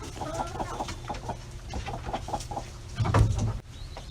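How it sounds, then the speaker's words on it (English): Chickens, bantams among them, cluck softly and intermittently in a coop as they settle in to roost at dusk, with a louder squawk near the end. "the chickens are starting to come in for the night and roost"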